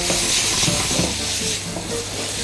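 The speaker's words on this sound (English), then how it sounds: "With this, you can treat it like a stir fry, just keep moving it around, don't worry about it." Chicken stir fried in a pan for a Thai green curry: a loud, continuous close sizzle with rustling stirring movement and no talk.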